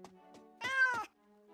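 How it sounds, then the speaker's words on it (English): A calico cat meows in the video game Catto's Post Office, one drawn-out, loud, close call between quieter background game music. "Ooh, a calico cat."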